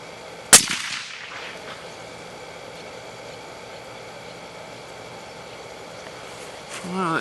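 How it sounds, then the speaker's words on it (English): A single sharp rifle shot from a Desert Tactical Arms rifle during an outdoor return-to-zero test, one loud crack that decays into a long quiet tail, with faint rustling afterward. "We'll start taking one shot, and then we'll remove the barrel, and then take another shot."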